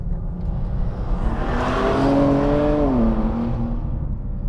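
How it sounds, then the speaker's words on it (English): A BMW M2 (G87) straight-six engine revs up hard, its tone climbing and then dropping, with a smooth mechanical whine, valve train noise and rumbling intake noise throughout. "you still get a lot of that induction noise and some of that valve train noise as well"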